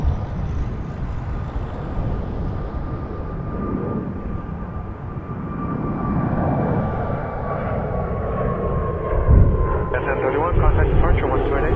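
An Embraer jet airliner taxis at Toronto Pearson Airport, its engine hum and faint whine steady and moderately close. Radio chatter and talk continue over the top.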